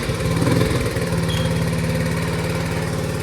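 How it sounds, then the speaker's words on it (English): A 1971 Honda SL70 motorcycle, choke half on, runs after a kick start, its small single-cylinder engine puttering in a fast even rhythm, loud and close, with no talk. "Usually this bike starts on the first kick."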